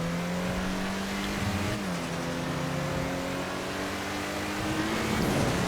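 A game-modelled Ubermacht Zion Classic sports classic car in GTA Online accelerates on a top speed run, its engine droning steadily as the pitch climbs through gear changes, loud and close throughout with no talking.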